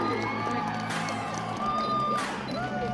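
Crowd cheering and applause at an inter-school athletic meet, a dense roar of voices and shouts with some whoops, steady and fairly loud across the whole stretch, with talk mixed in.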